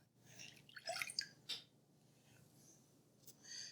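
Whole milk being poured into a bowl in a kitchen while making a Dutch oven chocolate lava cake: faint, brief liquid splashing and trickling near the start, fading to a quiet background hush.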